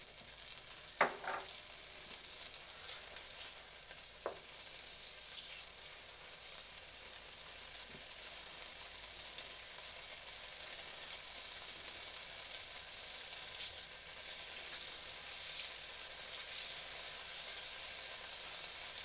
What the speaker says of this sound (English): let the butter melt, and then we're going to wait for the butter to start foaming